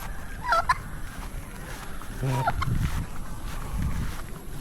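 A turkey gobbles twice in quick rattling bursts, fairly close, over wind and low outdoor rumble at a poultry farm.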